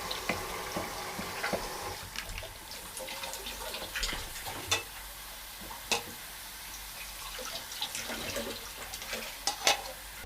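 Chopped herbs fry in a pan for a Gilan-style Tabiran stew, giving a steady soft sizzle broken by occasional scraping stirs and clicks of the utensil against the pan.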